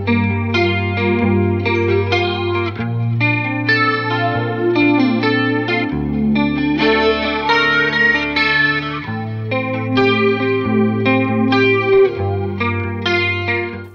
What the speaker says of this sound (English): with its 3 different chorus modes, which augments this classic effect with either ambient reverb, pitch shifting, or moving filters